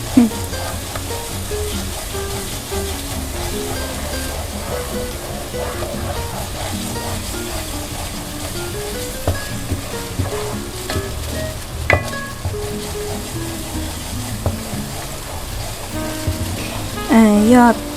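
Thai green curry paste with chicken stir-fried in a pan until fragrant, a steady close sizzle and frying hiss with occasional stirring scrapes and spoon knocks running throughout, with a voice speaking over it.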